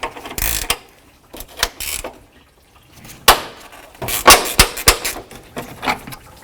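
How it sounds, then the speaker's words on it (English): Metallic clicks and ratcheting scrapes from a 10mm wrench loosening a bolt on the radiator of a 1984-2001 Jeep Cherokee, coming in irregular bursts with short pauses, close and fairly loud. "I'm going to loosen up this bolt first"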